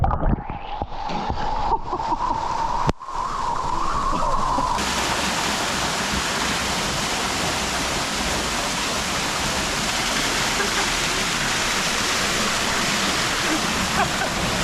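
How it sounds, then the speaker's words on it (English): A waterfall pours in a steady broadband roar at dawn in Sri Lanka, loud and continuous throughout with no break in the rushing water. "And look at this waterfall."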